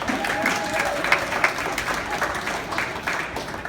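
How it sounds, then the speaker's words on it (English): An audience at a USO comedy show at Fort Drum breaks into steady applause, a dense wash of many hands clapping at once that carries on throughout, close and full. "Clap, round of applause."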